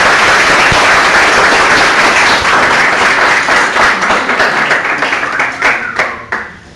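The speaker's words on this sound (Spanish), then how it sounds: "Un aplauso para todos ustedes, muy grande gracias." An audience at a scientific photography talk claps loudly and steadily, the applause thinning into scattered claps before fading out.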